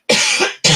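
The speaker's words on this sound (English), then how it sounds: "Excuse me, coughing." A woman coughs twice in quick succession, close and loud, a longer harsh burst followed by a short second one, with no talk.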